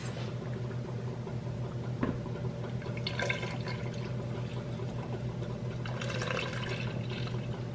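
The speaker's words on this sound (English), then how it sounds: "Now that this has gotten thick and it is simmering, I am going to add 4 cups of half and half." Half and half poured into a thick, simmering sailor's chowder, a soft liquid pour and gentle bubbling with a few clinks, steady and close over a low background hum.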